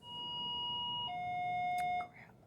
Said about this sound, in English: I talked too long because that's the final beeping.